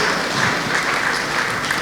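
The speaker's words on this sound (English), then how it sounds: "Please give her a round of applause." Audience applause at the Nigerian Diaspora Investment Summit, a dense, even wash of clapping from a large crowd, loud and sustained with no talk over it.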